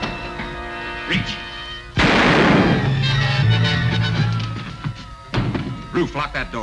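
Gunfire in a 1955 western TV show: a sudden loud blast cracks out mid-scene and rumbles on for a few seconds, with someone talking before and after it.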